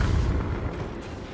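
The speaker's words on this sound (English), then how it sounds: "That was a good flash, that was a good flashbang." A flashbang goes off in the video game Dead by Daylight, giving a loud, deep booming burst that decays over about a second and is heard alone without talk.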